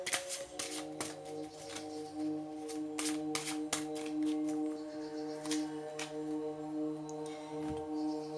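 Aloha oracle cards being shuffled and drawn by hand, soft riffling and flicking clicks scattered irregularly at close range over a faint steady hum, with no talking.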